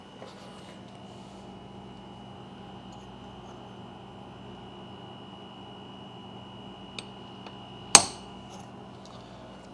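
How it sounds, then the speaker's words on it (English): A single sharp hammer strike against metal, marking hole positions on a Lagun FT-1S vertical mill, rings out once over a low steady shop hum, preceded by a fainter tap. "So we'll just whack it with a hammer."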